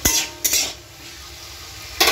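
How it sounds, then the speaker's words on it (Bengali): Potatoes frying in a pan in a home kitchen give a steady soft sizzle, broken by three short scraping clatters of a utensil stirring at the start, middle and end; close by, with no talking. "এখানে এখন একটু আলু ভাজা বসিয়েছি"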